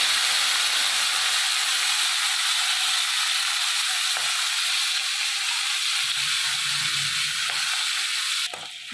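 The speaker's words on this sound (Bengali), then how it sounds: "মাছের তেল মোড়াটা আমি ভেজে নেব।" Fish oil parcel frying in hot oil in a kadai, a steady loud sizzle and hiss that holds throughout with faint clinks, alone without talk.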